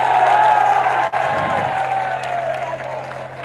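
Crowd applause at a party workers' meeting in a market hall, a steady wash of clapping and cheering that fills the room throughout, with a brief dip partway through and a sustained electrical hum underneath.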